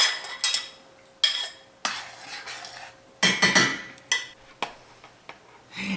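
Flour being stirred into a pot of corn potato chowder, a spoon clinking and scraping against the pot in irregular bursts, close and fairly loud, with short pauses between strokes.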